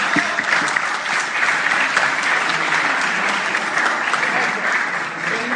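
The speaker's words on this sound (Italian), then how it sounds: "Verna Giulia, un applauso." Audience applause at a chess prize ceremony honouring women players in Morro d'Oro, steady and dense clapping from a sizeable crowd throughout, fairly close and loud.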